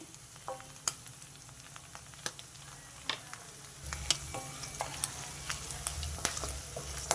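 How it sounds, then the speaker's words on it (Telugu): Dried prawns fry in oil with a soft continuous sizzle, punctuated by frequent crisp ticks, pops and spatula taps that grow busier partway through, heard close without speech. "ఆయిల్లో ఇట్లా వేయించుకోండి"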